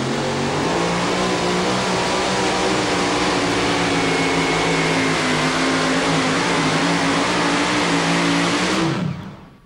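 Two-wheel-drive pulling truck engine roaring hard and steady at a Georgetown, Ohio truck pull, loud and close with dense harmonic drone, holding full throttle for about nine seconds before cutting off abruptly.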